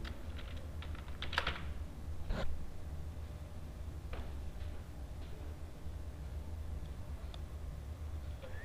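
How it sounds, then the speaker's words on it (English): Java code typed on a computer keyboard, steady quiet clicking keystrokes with a few louder bursts against a low background hum, no talking. "Now here we are going to type system.out.println."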